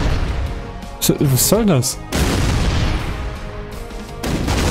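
In the tank artillery game ShellShock Live, a booming cannon shot and explosion burst out loudly with game effects, while someone talks over it.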